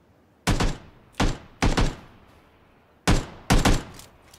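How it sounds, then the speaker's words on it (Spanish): Gunfire in PLAYERUNKNOWN'S BATTLEGROUNDS: five loud, sharp shots in two irregular bursts, some shots paired close together, each with a short decaying tail, against a quiet background with no talk. "Está disparando."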